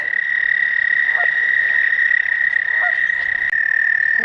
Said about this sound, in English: Good morning, frogs.